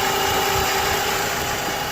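A 2007 Chrysler PT Cruiser engine idles steadily and close, a constant even hum with a faint whine above it and no voices.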